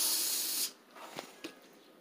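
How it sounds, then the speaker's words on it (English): An aerosol can of Lysol disinfectant sprays in a loud, steady hiss for about two-thirds of a second and then stops, followed by a couple of faint clicks and handling sounds. "What are you doing with that Lysol?"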